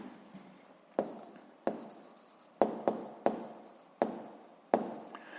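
Chalk or marker strokes on a board during a physics lesson come in sharp separate bursts, about seven taps and scrapes in an uneven rhythm, close and clear with no talking.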